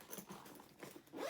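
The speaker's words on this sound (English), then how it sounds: "The zippers go about down to here." Zipper on a Timbuk2 Authority Pack backpack being pulled open, a faint, close-up run of short scratchy rasps and ticks across about a second and a half.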